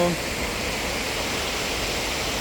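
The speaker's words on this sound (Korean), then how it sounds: "여기는 설악산 저 개울이 있습니다" A mountain stream at Seoraksan rushes steadily as broadband water noise, continuous and fairly even, heard outdoors near a trail.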